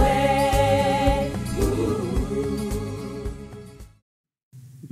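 A pop choir sings a topical vaccine parody of a song, full harmonized voices with accompaniment carrying steadily, then breaking off into a short silence before a brief low sound resumes.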